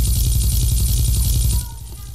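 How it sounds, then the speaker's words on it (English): A steady, loud video game helicopter rotor throb with a rhythmic low chop drones on, then drops in level near the end. "Can you stay in the helicopter for me?"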